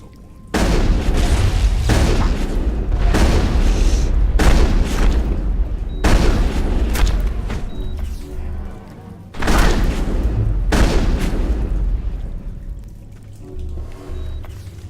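Gunfire and booming impacts in the Mass Effect video game, arriving as several loud blasts and crashing bursts, each with a deep rumble that fades between them.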